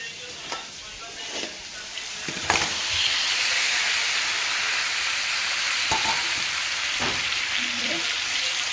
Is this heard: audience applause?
no